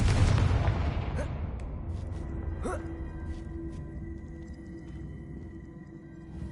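A Confringo fire spell detonates in Hogwarts Legacy with a loud booming blast that decays over several seconds into a lingering rumble and crackle, with a few faint later impacts.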